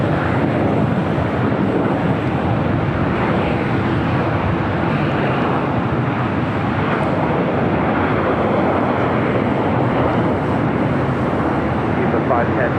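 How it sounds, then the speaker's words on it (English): A China Eastern Boeing 777-300ER powers down runway 25 right at LAX for takeoff, a loud, continuous broadband jet roar filling the whole stretch without letup, with a voice commenting over it. "China Eastern 777-300ER already lined up, ready"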